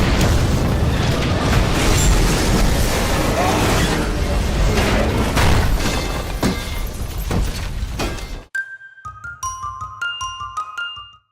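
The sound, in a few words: gas explosion in a film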